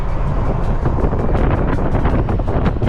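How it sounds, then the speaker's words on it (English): Outdoor wind buffets the microphone during a sunny e-bike ride, a loud, continuous low rumble broken by rapid gusty thumps, close and constant with no one talking. "there's a little bit of wind"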